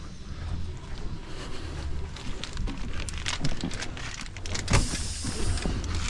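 Hissing air leak from a truck brake chamber, a steady close rushing hiss with scattered mechanical clicks and knocks, no talking.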